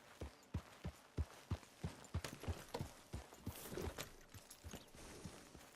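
Horse hooves clip-clop in Red Dead Redemption 2, a steady, fairly quiet rhythm of distinct hoofbeats at a walking-to-trotting pace, close by and with no talk over it.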